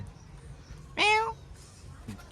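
A cat gives a single short, clear meow at fairly close range outdoors, standing out briefly over a low steady background rumble.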